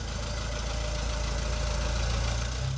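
A 1949 Farmall Cub tractor engine idles steadily nearby, a low knocking rumble with continuous vibration and no pauses throughout.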